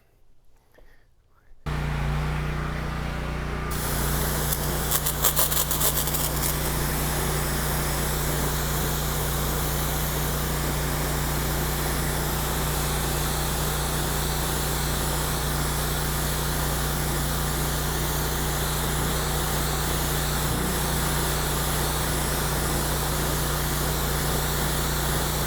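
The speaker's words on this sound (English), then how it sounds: "let me get the pressure washer revved up" A gas pressure washer starts and runs steadily while cleaning Pirelli Scorpion summer tires for a Ram 1500 pickup, a loud continuous engine drone with hissing spray that stays constant after a quiet opening moment.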